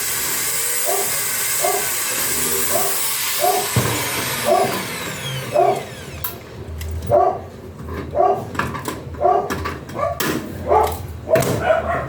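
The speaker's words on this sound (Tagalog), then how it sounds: "Maingay yung aso natin." Dogs bark repeatedly in short bursts against a loud hissing background, the barking growing sharper and more frequent in the second half.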